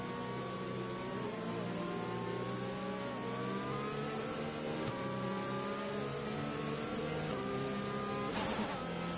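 Race cars in a sim racing game at Bahrain, running a lap behind the safety car: a steady, loud engine drone with rising and falling tones, several cars overlapping, a brief rev surge near the end.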